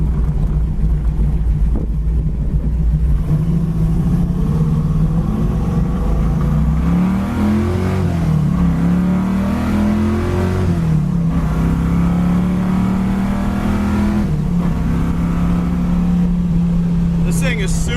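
A 1980 Camaro Z28 with a 750 double-pumper carburetor and five-speed cruises at about 70 mph near 2300 RPM, its low engine drone steady with brief pitch shifts, heard from inside the car.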